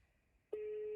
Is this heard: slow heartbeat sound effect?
no